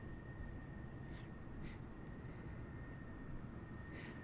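A SkyWest airliner takes off from Tucson International Airport, heard as a faint, distant, steady jet roar with a thin high whine over a low rumble.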